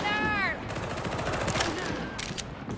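Gunfire in the Darktide video game, with a short burst of shots under a busy mix of game sound and a brief tonal sweep, fairly loud throughout.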